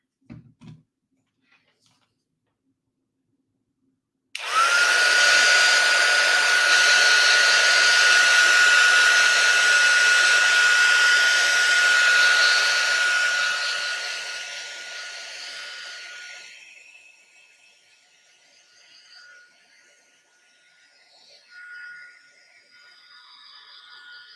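A hair dryer roars steadily at close range for about ten seconds while drying water on distress spray art, then its airflow fades to a softer hiss before cutting off, with brief clunks before it starts.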